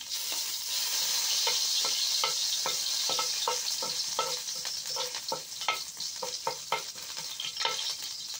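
Ginger frying in a hot pan as the first ingredient for sarciado, a steady sizzle broken by a run of quick, close scraping strokes of a spatula that grow irregular toward the end.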